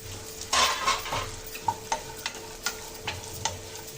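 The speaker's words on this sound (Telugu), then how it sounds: "ఇప్పుడు ఈ కట్ చేసుకున్న డ్రై ఫ్రూట్స్ వేసుకుందామండి కొంతసేపు ఫ్రై చేసుకుందాం" Chopped dry fruits sizzling as they fry in ghee in a thick pan over medium flame, with a burst of frying noise followed by a steady series of sharp spoon-stirring clicks and scrapes, close and fairly loud.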